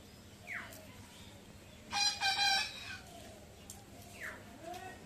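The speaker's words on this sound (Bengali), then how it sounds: "কি মুরগি বাচ্চারা কি মাছ খাওয়ার চায়?" Chickens in a rural yard make short rising calls, and a rooster crows loudly once in the middle, close by. Quieter clucks follow over a low, steady background.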